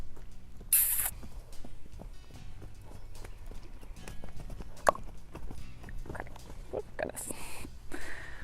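Horse cantering on footing in a round pen, with soft rhythmic hoofbeats recurring steadily at a moderate distance, a faint voice occasionally speaking nearby.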